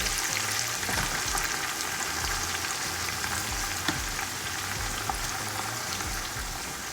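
Green chilli paste and ginger-garlic paste frying with browned onions in a pot for yakhni pulao, producing a dense, continuous sizzle and bubbling hiss, close and steady throughout, without speech.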